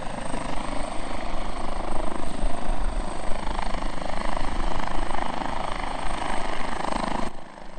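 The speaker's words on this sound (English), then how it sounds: "It's really hard to play with this helicopter here." A helicopter drones loudly and continuously over a golf course with a steady rotor thrum, sounding close overhead throughout.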